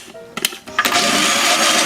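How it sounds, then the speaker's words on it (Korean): Kitchen blender grinding basil pesto ingredients with olive oil: a few short clattering bursts, then the motor settles into a loud, continuous whirring grind. "먼저 다른 재료를 갈아주시고 바질을 넣어주세요."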